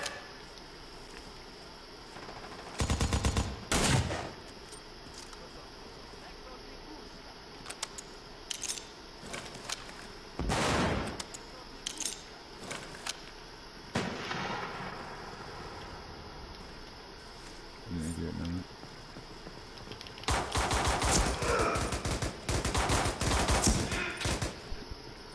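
Gunfire from a PS4 shooter crackles in scattered bursts and short volleys, with a long, dense stretch of rapid fire near the end, all at a moderate distance and with no talk over it.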